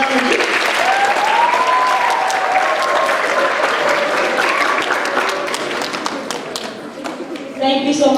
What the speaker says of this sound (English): Round of applause, please, for Mr. Amarjit.